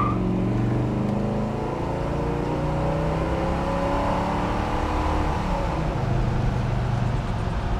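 A 1966 Pontiac GTO pulls hard through its gears, a loud, continuous engine drone rising in pitch with each gear and falling back at the shifts, heard from inside the car with steady road noise and no talk.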